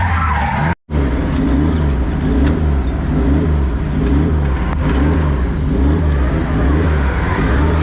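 A car drifting at a night drift matsuri event, its engine roaring loud and near under constant high revs while the tires skid continuously.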